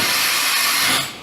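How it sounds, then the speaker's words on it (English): Automatic 30-tool side-mount tool changer on a 2008 Doosan MV4020 CNC mill, a short loud pneumatic hiss and whoosh of the tool swap, close and alone, tapering off at the end. "side mount automatic tool changer. 30 tool. Finding a tool."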